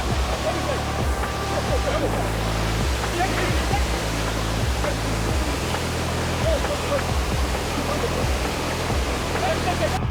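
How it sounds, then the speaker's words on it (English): Floodwater rushing loudly and steadily across a flooded crossing, a continuous broadband roar with churning surf-like texture, close and unbroken for the whole stretch, while a voice talks underneath. "There was water rushing,"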